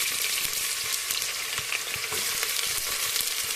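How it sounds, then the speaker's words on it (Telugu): Chopped onions frying in oil with cumin seeds in a pan for chicken gravy, a steady close sizzle running throughout with scattered light stirring clicks. "మనం రెడీ చేసుకున్న ఉల్లిపాయలు కొంచెం గోల్డెన్ బ్రౌన్ కలర్ వచ్చే వరకు వేయించుకోవాలి."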